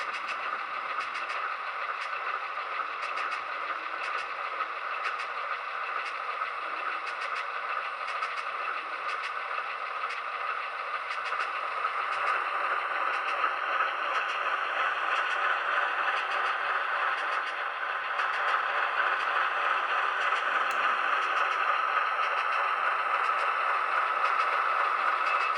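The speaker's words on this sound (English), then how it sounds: "that's the unique sound of an Alco" An Alco S-3 diesel switcher locomotive engine idles and chugs steadily, its loud throbbing rumble swelling slightly partway through, with faint metallic clatter and no voices.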